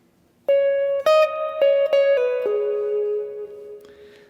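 A clean electric guitar plays a short lead phrase from a solo of 9/16/90, about seven sustained single notes in a legato melodic run, close and alone.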